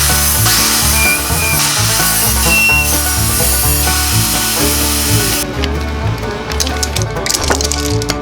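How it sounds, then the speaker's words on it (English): A miter saw trims the sides of wooden cutting boards, a loud, steady whining cut with rubbing wood noise that holds for most of the stretch before easing into scattered clatter near the end. "now let's go to the miter saw and trim the sides"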